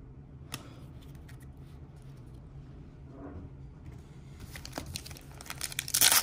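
Crinkling and tearing of foil wrapping as a 2019 Topps Chrome Sapphire baseball card box is opened, with scattered crackles that build to a louder rustling burst at the end, close to the mic with no talk.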